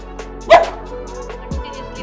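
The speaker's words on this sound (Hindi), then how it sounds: "कंटिन्यूसली भौंकेगा" A single sharp bark from an upset pet dog indoors at about half a second, fairly close, followed by a brief low whimper-like sound against a quiet room background.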